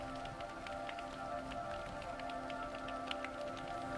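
Rain falls in a soft patter of scattered drops over a steady low hum, quiet and even throughout.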